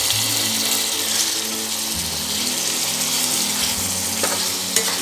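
Chicken pieces frying in a pan for chicken do pyaza, a loud continuous sizzle with stirring scrapes throughout, close and without talk.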